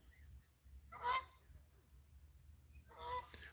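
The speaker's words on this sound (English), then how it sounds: "Hear those geese?" A goose gives two separate honking bursts outdoors, a loud call early and another a couple of seconds later, with quiet low background between them.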